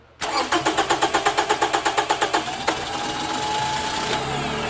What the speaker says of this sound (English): So go ahead and crank it.